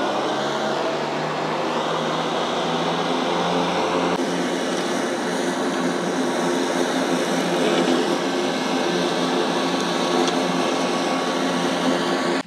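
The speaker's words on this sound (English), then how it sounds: "Deb's gonna jump on the Kubota and get this comparison strip going." Kubota mower cutting thatchy grass with Cutlass blades, giving a loud, steady engine and blade roar that holds evenly throughout without pauses.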